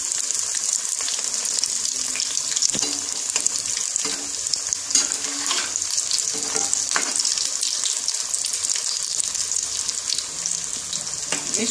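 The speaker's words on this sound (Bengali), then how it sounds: "আমি চাটতে দিলাম, চাটতে চাটতে করে ভাজছি" Banana flower cutlets fry in hot white oil, giving a steady, close, crackling sizzle throughout with a few soft stirring taps and no talk.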